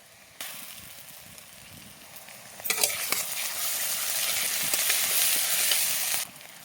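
Onion and ginger-garlic paste hit a hot pan and fry with a steady sizzle that swells louder as more goes in, with some stirring, then cuts off near the end.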